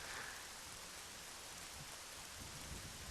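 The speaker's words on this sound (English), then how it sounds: "as you can see, it's raining, it's pretty cold out and horrible" Steady rain falling in The Legend of Zelda: Majora's Mask, a constant broadband hiss of drops with a faint low rumble like distant thunder underneath, quiet and unbroken throughout.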